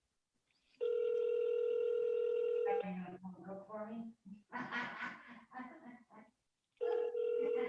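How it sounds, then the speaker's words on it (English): A telephone ringback tone sounds on an unanswered call, a steady electronic tone lasting about two seconds, then returning near the end, with a person talking in between. "he's not answering his phone either"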